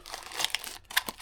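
Hands rummage through the packaging of a DJI Mini 3 drone box, crinkling plastic and paper in quick rustling bursts, close and soft with no talking.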